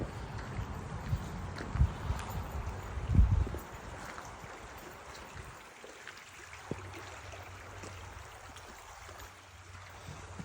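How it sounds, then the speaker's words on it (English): A small creek at Lilydale Falls runs just below among ferns, a steady low wash of flowing water that goes on throughout, with some louder rustling bumps early and a quieter, even trickle later. "you can listen to the water here. Beautiful little creek just down below us"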